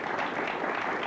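Audience applause for magician Billy McComb at the Magic Castle, a dense, even burst of many hands clapping close by.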